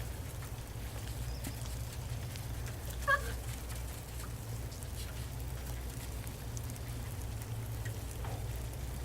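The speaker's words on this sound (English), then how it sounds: "It's about 36 degrees, but it's raining." Steady rain falling outdoors on a snowy day, a constant soft hiss with a low rumbling hum beneath and a brief faint animal cry partway through.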